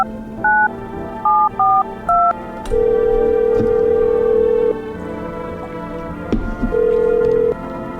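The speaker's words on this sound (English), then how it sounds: "let's try and call her neighbor real quick" A phone in a video game dials a neighbor: a quick run of clear, loud keypad tones, then a long steady ringing tone, a short pause and one more ring.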